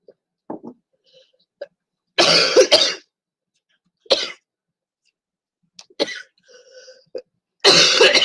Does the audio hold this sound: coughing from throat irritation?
yes